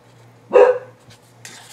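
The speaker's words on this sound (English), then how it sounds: "the dog barks" One loud, close bark from a dog in a quiet indoor room, followed by a low hum and some faint rustling.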